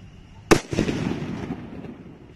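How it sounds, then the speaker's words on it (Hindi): A Nazi bomb sutli firecracker goes off with one sharp, loud bang, followed by a crackling, hissing burn that slowly fades. "अब इस नाजी बम को जला के देखते हैं कैसा जलता है।"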